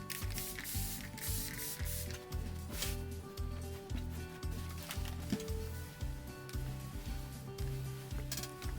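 Repeated short hisses of Best Press starch being sprayed onto quilting fabric, with a steady rhythm of bursts alongside soft rubbing and handling sounds, fairly close and moderately loud.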